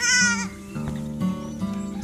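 Small goats on a dragon fruit farm bleat, with one loud, wavering cry up close, followed by quieter bleats from nearby animals.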